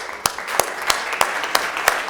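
Audience applauding after a talk on incentives and performance, a steady run of claps with a few sharp louder ones standing out over a dense hall-wide wash of clapping.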